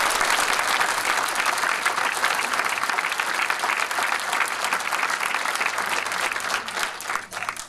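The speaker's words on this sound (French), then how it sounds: "Je vous demande de l'acclamer." An audience at a film screening and debate breaks into loud, sustained applause, the dense clapping continuing steadily throughout with little variation.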